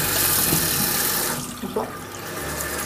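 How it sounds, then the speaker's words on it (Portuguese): A running tap rinsing a makeup brush, a steady stream of water that gives way to softer, uneven splashes and wet handling sounds. "Depois que eu vejo que ele tá limpo, eu venho em água corrente."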